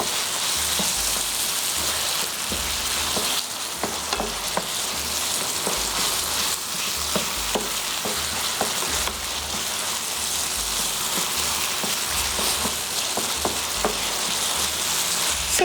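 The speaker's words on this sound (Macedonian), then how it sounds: "Исто и ова треба да се пропржи." Food fries in a pan with a dense, continuous sizzle and crackle, steady and close throughout, along with occasional faint clinks and stirring sounds and no voices.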